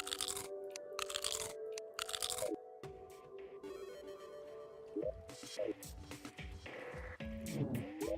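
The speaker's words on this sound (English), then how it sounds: "It's me eating pumpkin pies in the game that are doing that." Crunchy chewing and biting sounds from eating pumpkin pies in the Terraria video game, repeated in quick bursts with clicky game noises between them, fairly quiet.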